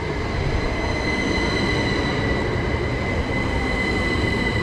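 Southeastern Class 375 electric train 375 922 running, heard from inside as a loud continuous rumble of wheels on track with a steady high whine over it.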